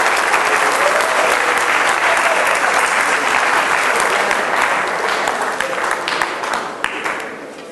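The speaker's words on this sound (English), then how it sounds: "So he deserves another round of applause" A large audience applauds at a lecture event, thick sustained clapping that gradually thins and fades toward the end.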